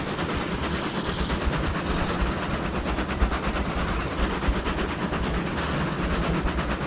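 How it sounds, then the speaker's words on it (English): Two locomotives in the Railroads Online video game dispense sand while rolling, giving a steady, loud rumble with a rapid rhythmic clatter and a hissing spray layered over it throughout, with no talking. "Both locomotives are dispensing sand."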